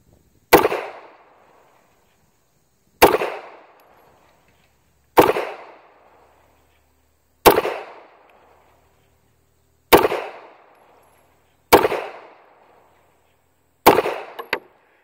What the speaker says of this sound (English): let's get you to shoot that gun again